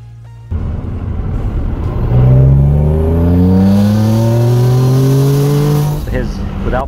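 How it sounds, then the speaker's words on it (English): A turbocharged Toyota Camry engine without its supercharger revs up hard, rising in pitch over several seconds, then drops off, loud and close with no talk over it. "Without the supercharger, the original just the turbo."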